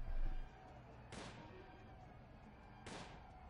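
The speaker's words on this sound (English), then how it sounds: "I can hear gunshots." Two gunshots fire in the prison-management game Prison Architect, sharp distant cracks about two seconds apart over quiet background noise, with no voices.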